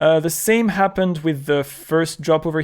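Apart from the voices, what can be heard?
No distinct noise like a dog, phone or traffic.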